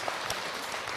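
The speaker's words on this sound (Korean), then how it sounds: "박수." Audience applause at a Buddhist monk's lecture, a brief, faint patter of clapping with no voices.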